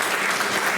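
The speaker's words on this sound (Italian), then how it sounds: "Maria Teresa Pirrivelli, un applauso." Sustained audience applause at a poetry competition, dense and steady clapping from a crowd, loud and close.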